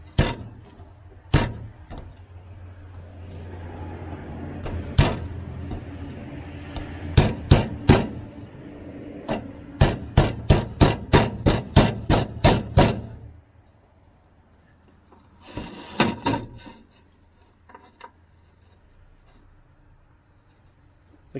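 Metal hammer blows ring out on hay elevator conveyor parts, first scattered strikes, then a fast run of sharp bangs, then a brief cluster of clanks, all with shop background noise.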